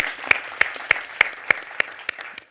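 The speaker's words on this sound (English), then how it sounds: "Let's give them a round of applause" Sharp, evenly spaced claps, about three per second, ring out clearly from an audience, steady and unaccompanied by talk.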